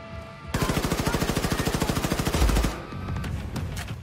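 Automatic gunfire in Wolfenstein: The New Colossus: a loud, rapid, evenly spaced burst of shots that runs for about two seconds, then falls off into fainter scattered firing and rumble.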